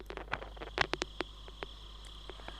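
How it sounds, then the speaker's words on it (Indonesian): Light drizzle drips onto a house roof, producing scattered irregular ticks and taps, some close and crisp, over a low steady hum in a quiet setting. "Gerimis rintik hujan terdengar mulai turun. Tetesan airnya berdetik jatuh di atap rumah,"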